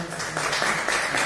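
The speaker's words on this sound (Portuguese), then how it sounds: "Vamos aplaudir aqui." A church congregation applauds during a worship service, brisk rhythmic clapping in a moderately sized room that keeps steady for a brief moment.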